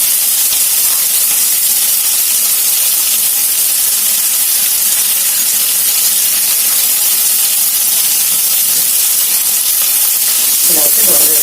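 Green chillies and chopped onions sizzle in a hot pan, a steady close hiss of frying that runs unbroken throughout, with a brief faint clatter near the end.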